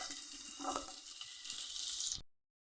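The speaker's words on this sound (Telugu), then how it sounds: "పచ్చిమిర్చి బాగా ఫ్రై అవ్వాలండి" Green chillies and cumin seeds fry in hot oil, giving a steady, close, bright sizzle with small crackles that stops abruptly near the end; no one speaks.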